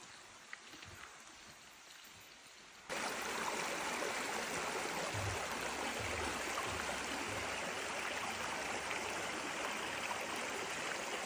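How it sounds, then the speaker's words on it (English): Lilydale Falls, a waterfall, rushes as a steady broadband wash of falling water, faint at first, then abruptly louder and constant, with no voices. "I can definitely hear the sound of the falls ahead"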